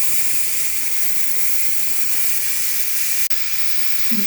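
Steady, loud hiss of steam venting from a pressure cooker during the release of pressure while cooking spicy pumpkin soup, continuous and close with a brief break near the end.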